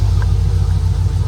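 A car engine idles steadily after a fuel pump repair, with fuel pressure holding around 58 to 60. It makes a close, even low rumble that carries on unbroken, with no voices.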